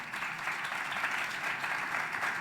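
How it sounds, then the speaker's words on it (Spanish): Conference audience applauding a speaker at an education technology congress in Barcelona, dense continuous clapping from many people filling the hall, steady and unbroken. "Un aplauso para él, por favor."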